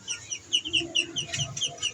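Chickens kept on a home balcony cluck in a rapid, busy series of short calls, close and moderately loud, with no talk over them.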